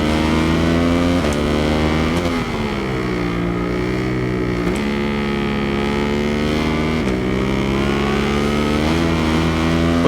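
A 2008 Ducati 1098R superbike engine roars steadily at Donington in Ride 5. It stays loud and close throughout, with its pitch rising through the revs and dropping at several gear changes.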